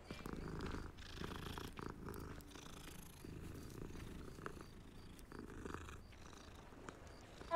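A cat purring in the Hogwarts Legacy video game: a soft, steady low rumble that runs unbroken throughout, quiet and close, with no voices.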